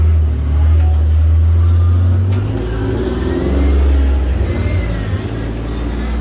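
A car drives close past on a street in Jerusalem, its engine humming loudly and rising in pitch as it nears, then falling away as it moves off, with steady traffic noise underneath.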